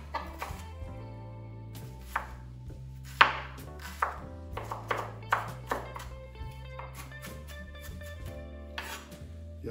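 A knife slices an onion thinly on a cutting board, producing a series of crisp, irregular chops close by, some sharper taps standing out among quieter cuts.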